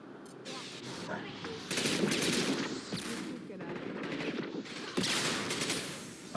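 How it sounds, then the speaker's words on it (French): Rapid bursts of enemy turret gunfire in the video game Mass Effect 2, dense overlapping shots and booms filling the scene at fairly high volume without pause. "ces tirs sont facilement esquivables au loin"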